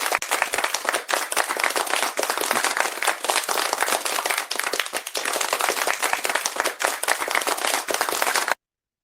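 Audience at an Independence Day celebration applauds in dense, sustained clapping heard from a moderate distance, steady for about eight seconds before stopping abruptly.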